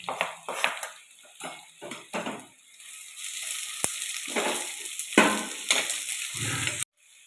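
Chopped onions frying with ginger and garlic in a pan, a spoon scraping and clattering in bursts as they are stirred, with a soft sizzle running underneath.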